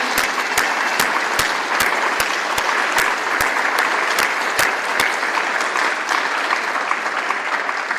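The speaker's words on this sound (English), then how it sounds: "we need to give one more round of applause to Shah Khan for such a wonderful match." A tennis audience applauds after a national championship match, a dense, steady wash of clapping at even loudness throughout. A few sharper claps stand out regularly near the front.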